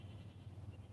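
Goats bleating quietly on a farm, a faint continuous low murmur of calls with no talk over them.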